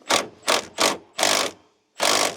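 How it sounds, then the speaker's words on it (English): An impact gun fitted with a 13mm socket hammering on a bolt of an Evo X during a rebuild, five sharp rattling bursts in quick succession, loud and close, no talking. "John, I need 13mm on the gun"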